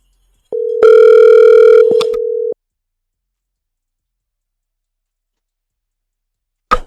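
A WhatsApp phone call ringing tone: a steady two-second electronic tone with a brief click, then silence until another faint click at the end.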